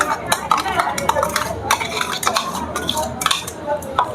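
Salt, chopped spices and masala being mixed into paneer in a bowl, with a spoon clinking and scraping against the dish in quick, irregular strokes, close and clear.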